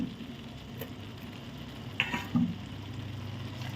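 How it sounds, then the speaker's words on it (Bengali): Fried lentil fritters are dropped into a simmering masala with a little added water for a banana-flower ghonto, a low steady bubbling sizzle with a couple of soft splashy plops near the middle. "এবারে এর মধ্যে আমরা ভেজে রাখা ডালের বড়াগুলো সেগুলো ছেড়ে দেব।"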